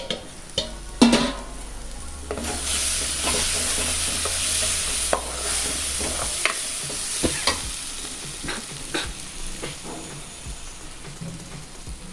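Onion-tomato masala sautéing in a pan makes a soft, continuous sizzle, broken by repeated scraping and clattering strokes of a spoon stirring the mixture close by.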